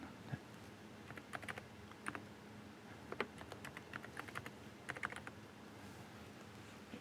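Close, steady clicking of computer keys being typed in irregular bursts, with no voices.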